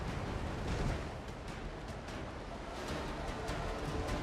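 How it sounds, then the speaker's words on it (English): A ship's front cannon in the pirate game Windrose fires in a dense run of booming blasts. The rough, noisy roar stays loud and sustained for several seconds, with no voices. "And how about my front cannon? Who wants a taste?"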